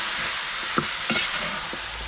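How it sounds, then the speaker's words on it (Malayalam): Spices, coriander and turmeric powder, being stirred into a hot pan for Kerala-style kappa biryani: a steady bright sizzle with a few soft spoon scrapes and taps, close and alone. "ഇനി എല്ലാം കൂടി നമുക്കൊന്ന് മിക്സ് ചെയ്യാം."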